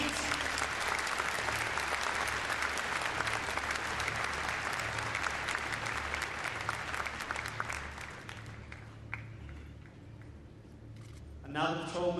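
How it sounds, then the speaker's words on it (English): An outdoor crowd at an RAF display applauds a military working dog, Air Dog Skeet, with sustained clapping that fades out near the end, while a public-address announcer talks over it. "Big round of applause, ladies and gentlemen,"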